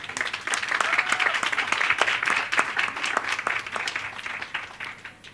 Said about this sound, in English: give the White Star team a huge round of applause